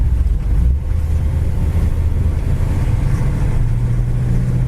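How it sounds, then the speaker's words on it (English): A white 1959 Ford retractable's exhaust gives a low, steady, fairly quiet rumble while driving, mixed with wind and road noise throughout, with no talking. "Exhaust sounds nice and quiet."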